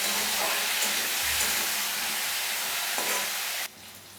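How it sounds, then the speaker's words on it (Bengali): Sliced spiny gourd (kakrol) frying in a pan of oil, a loud continuous sizzle with faint stirring scrapes that abruptly fades to a quieter hiss near the end. "নেব একটু লাল লাল করে আমি ভাজবো"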